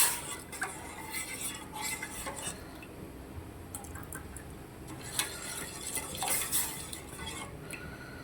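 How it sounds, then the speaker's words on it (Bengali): Chutney being stirred in a pot on a gas stove: soft, irregular scraping and clinks of a utensil against the pot, close by and fairly quiet, with no voices. "একটু মিশিয়ে দিলাম যাতে সমস্ত জিনিসগুলো মিশে যায়"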